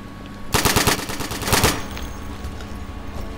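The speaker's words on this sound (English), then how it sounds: "Sten gun, best gun." Sten gun firing in Insurgency, two fast bursts of rapid automatic shots about a second apart, loud and close, followed by a fading echoing tail.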